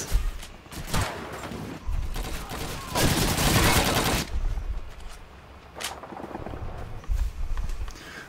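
Distant gunfire barrage in the World War II shooter Call of Duty 2, with scattered shots and bursts and a dense stretch of heavy firing in the middle.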